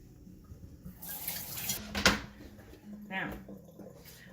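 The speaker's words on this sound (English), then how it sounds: "Which I forgot to wash. So I'm washing it now." Running tap water splashes over a red pepper being washed in a kitchen sink, a brief rushing stream with a sharp splash and a short second gush, quiet overall.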